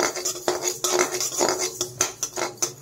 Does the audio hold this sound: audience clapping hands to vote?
no